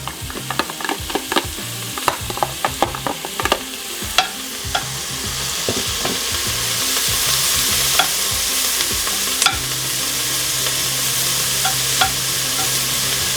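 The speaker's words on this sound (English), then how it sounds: "So let's go down with a little bit of avocado oil and in with our garlic." Garlic hits hot avocado oil in a pot for Texas red chili, several sharp stirring clicks up front, then a rising, steady close sizzle that fills the rest of the clip with no talking.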